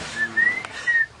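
A person whistles at a tree farm, a few short, thin, wavering notes with gaps between them, close and fairly loud, no talking.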